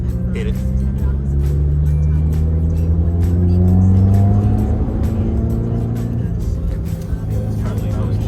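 A car engine accelerates hard at full throttle up a snowy hill, a loud sustained roar whose harmonic tones rise steadily across the clip, with people talking over it.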